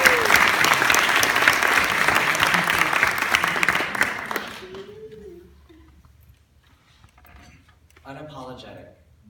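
Graduation audience breaks into loud, dense clapping that holds for several seconds, then tapers off and stops, leaving a quiet pause before a voice starts speaking.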